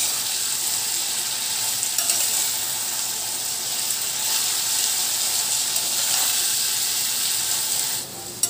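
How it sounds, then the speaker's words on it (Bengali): Bitter gourd and potato frying in oil, a dense, loud crackling sizzle that runs steadily throughout, close to the pan, with faint stirring scrapes and no speech. "ভালো করে আমি এই করলা আলু কিন্তু খুব ভালো করে ভেজে নিয়েছি"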